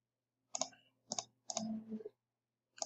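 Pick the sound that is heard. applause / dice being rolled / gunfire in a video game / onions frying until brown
dice being rolled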